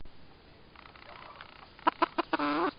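A naked-neck hen at a farm poultry yard gives a short run of clucks, starting soft and rising to several louder, closely spaced calls and a drawn-out squawk.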